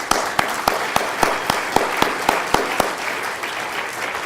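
An audience applauds to welcome lecturer Marc Rotenberg at a special lecture, with a steady burst of clapping that is loud at first and then gradually thins out.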